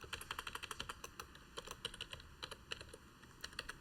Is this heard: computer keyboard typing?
yes